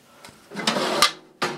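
Middle drawer of a toolbox sliding and clunking, a few short scraping rattles followed by a sharper knock and one more scrape, close and clear with no talking.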